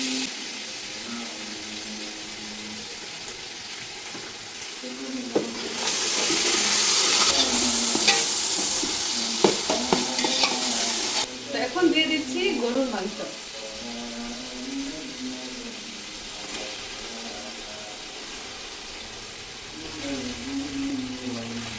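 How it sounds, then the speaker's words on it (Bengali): Onions with ginger and garlic sizzle in a pot for a two-and-a-half-kilo beef biryani, a steady frying hiss swelling loudly as ingredients are stirred in, with someone talking over the cooking. "পেঁয়াজ অনেকটাই ভাজা ভাজা হয়ে এসেছে"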